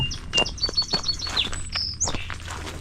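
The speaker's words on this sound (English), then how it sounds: "Love hearing the birds." Several birds chirp and tweet nearby in quick, bright bursts over quiet outdoor background in the Sensiba Wildlife Area, Wisconsin, in August, with faint rustling between calls.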